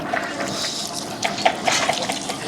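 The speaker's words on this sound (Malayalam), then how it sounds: "ഇനി ഇതിലേക്ക് കുറച്ച് പച്ച വെളിച്ചെണ്ണ കേട്ടോ നമ്മൾ ഒഴിക്കണ" Raw coconut oil poured into a huge batch of beef curry, about 125 kg, giving a soft liquid splashing and trickling texture with a few small splats, steady and moderately close, no talking.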